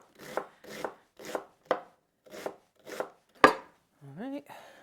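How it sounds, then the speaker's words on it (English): A knife slices vegetable stems for coleslaw on a cutting board, with about seven crisp, evenly spaced chops close by, followed by a brief squeaky scrape at the end. "the stem bit I'm going to cut in quarters and then slice so it's a little finer"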